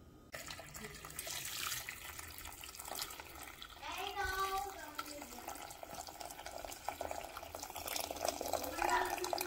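Tap water pours steadily into a pot holding a chicken carcass and a whole head of garlic, a continuous rushing stream that fills the pot, with a faint voice underneath.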